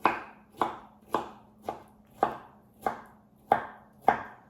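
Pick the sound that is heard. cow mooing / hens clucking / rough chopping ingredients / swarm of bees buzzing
rough chopping ingredients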